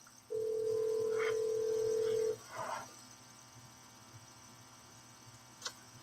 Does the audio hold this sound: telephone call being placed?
yes